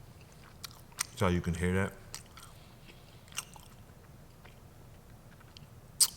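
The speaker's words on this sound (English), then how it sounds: "Can you hear me chewing?" Someone chews food close to a shotgun microphone, giving a few sharp, crisp bites and crunches separated by quiet pauses. A brief spoken remark comes between them.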